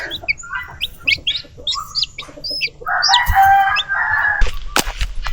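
Farm chickens chirp and cluck in short bursts, followed by a rooster's loud, drawn-out crow close by, with faint rustling underneath and no talking.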